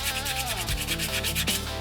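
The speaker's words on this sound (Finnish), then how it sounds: "Hiomapaperilla loput." Sandpaper is rubbed by hand over a wooden jerkbait fishing lure body, a rapid rhythmic scratchy rasping of back-and-forth strokes, close and continuous.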